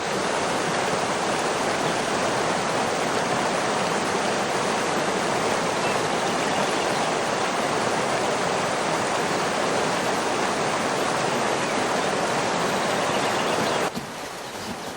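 Rushing river water, a loud, dense and continuous roar of churning current heard close up, unbroken until it drops slightly in level near the end.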